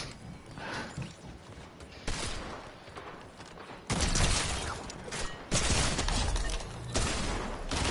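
A favourite shotgun fires in Fortnite, with about four heavy, sharp blasts spaced a second or two apart over rumbling game noise and mechanical clatter.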